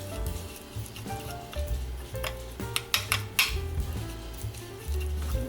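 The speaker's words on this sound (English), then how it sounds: "Now what we're going to do is mix it all up." Spoon clinking and scraping in a bowl while watermelon ice cream ingredients with lemon and honey are stirred together, irregular knocks and taps at close range, no speech.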